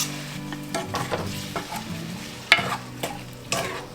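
Tomatoes go into sautéed garlic in a pan over medium heat, giving a continuous close sizzle broken by the repeated scrape and clack of a stirring spoon.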